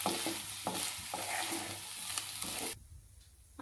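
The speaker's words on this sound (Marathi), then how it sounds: "आणि परत 1 मिनिटासाठी आपण फ्राय करून घ्यायचं आहे" Potatoes with red chilli powder fry in a pan, a loud sizzle broken by rhythmic stirring scrapes for nearly three seconds before dropping off to a faint hiss.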